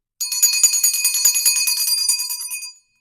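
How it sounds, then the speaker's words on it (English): A single hand bell is shaken in a bright, rapid jingling for about two and a half seconds, then stops abruptly, close and clear with no voices. "I'm also gonna use my mom's bell."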